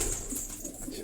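Pigeon cooing inside a racing pigeon loft in Quetta, a soft low murmur with a couple of gentle swells, steady and close over a faint hiss of background noise.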